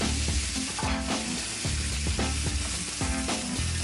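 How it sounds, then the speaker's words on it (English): Lamb chops searing in a hot pan, a loud, dense, close sizzle with crackling spits and pops throughout, no voices. "You're gonna wanna sear them on each side for about 3 to 5 minutes"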